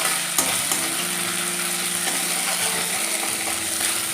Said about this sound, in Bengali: ভালো করে আদা রসুনটা ভেজে নেব যাতে আদা রসুনের কাঁচা গন্ধটা